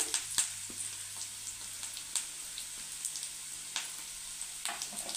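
Dried red chillies and curry leaves crackle and sizzle in hot oil with lightly fried onions, a quiet steady fry dotted with sharp pops, no voices.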